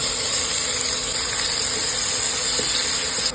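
Finely chopped onion sizzles in hot oil with cumin seeds on a tava, a loud, steady hiss that holds constant close up, with faint scraping underneath.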